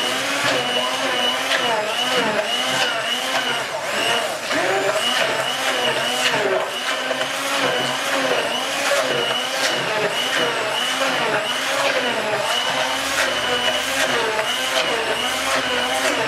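Filleted, skinless and boneless Spanish mackerel is ground into a smooth paste for empek-empek, with a loud, steady whirring grinder motor running continuously and close by for the whole stretch.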